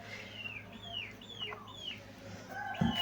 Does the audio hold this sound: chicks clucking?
yes